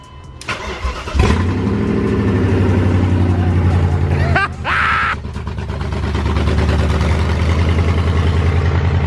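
A BMW E39 M5 Touring engine fires up for its first start: a brief crank catches with a loud bark, a short stumble and blip, then settles into a steady, close idle.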